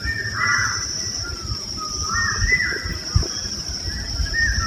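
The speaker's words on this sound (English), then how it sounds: "Bird songs recorded by nature lovers from all over the country." Crows cawing in a neighbourhood dawn chorus, several harsh calls repeating at moderate distance over a steady high insect-like drone and low background rumble.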